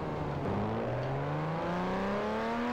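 A Ferrari in Garry's Mod roars steadily at high speed, its engine tone climbing through the gears in smooth, continuous rising harmonics, loud and close with no pauses.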